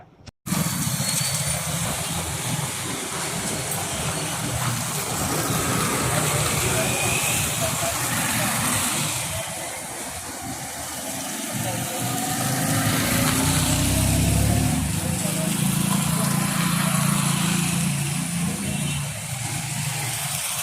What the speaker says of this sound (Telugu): జనవాసాల మధ్య ఏర్పాటు చేసిన డీజిల్ జనరేటర్ తొలగించేలా చూడాలని కోరారు